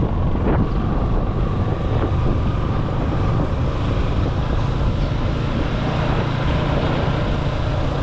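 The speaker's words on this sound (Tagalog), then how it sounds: "Wow, lakas ng hangin." Heavy wind buffets the microphone in a constant, loud rumbling roar that never lets up, drowning out any other sounds, beside rice fields.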